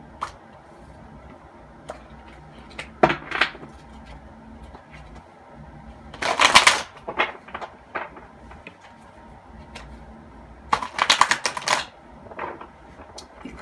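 Oversized cards are shuffled on a table that shakes under them, giving a few sharp riffling bursts and soft taps spaced apart against a quiet room.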